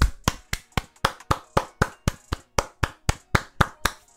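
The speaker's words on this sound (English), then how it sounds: "Round of applause for Kenya." A single person claps in a show of support for Kenya, about fifteen sharp, evenly spaced claps at a steady rhythm, close and fairly loud, with no voices.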